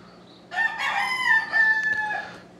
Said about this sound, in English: Sorry for the rooster.